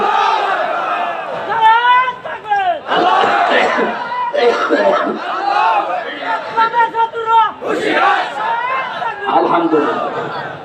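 A crowd at a Bangla Islamic waz gathering shouts the takbir chant in unison in response to a preacher, loud and near, in several surging bursts with chatter between them.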